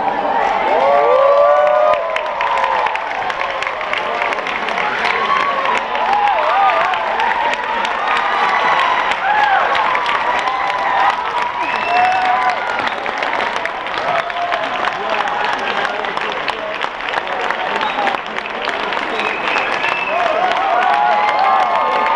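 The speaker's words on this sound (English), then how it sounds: "That would get a big applause" A large crowd at a political rally in Washington, DC applauds and cheers continuously, dense clapping mixed with shouts and whistles that stay loud and steady throughout.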